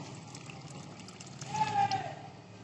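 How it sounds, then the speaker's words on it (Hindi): Water poured onto the soil of a freshly planted flower bed in a home garden, a soft steady trickle that swells briefly midway, with a voice speaking over it. "अब हम इसमें पानी दे देते हैं,"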